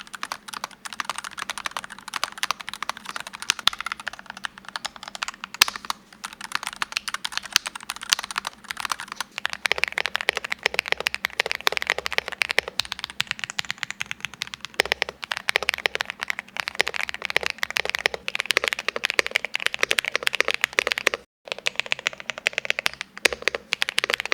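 Steady, rapid typing on a Hall effect mechanical keyboard: dense clicky keystrokes continue for over twenty seconds with a brief pause near the end.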